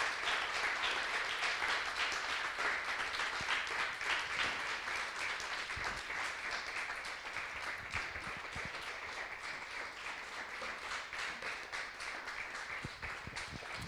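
Standing audience giving a long, loud round of applause to an honored guest speaker, steady dense clapping sustained for about fourteen seconds with little change in intensity.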